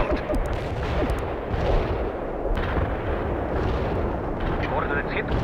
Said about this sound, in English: Napalm is on the way.